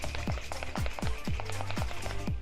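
An empty passata jar holding a splash of water is shaken hard, giving a fast, even run of close sloshing knocks, about four per second, with no voices.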